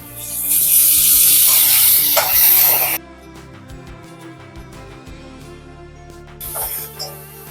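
Onion, tomato and garlic sizzle loudly in hot oil in a wok for a prawn curry, a bright hissing burst for about three seconds that stops, then briefly returns near the end over soft background music.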